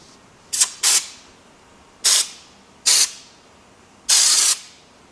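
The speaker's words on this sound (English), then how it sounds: "I'm gonna do a quick little test spray on this" Five short hissing bursts of a spray gun test-spraying Raptor bed liner, two quick ones, then two spaced apart and a longer final spray, with quiet pauses between.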